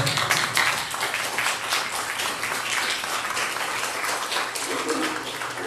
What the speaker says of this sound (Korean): 잠깐 박수 한번 해드릴게요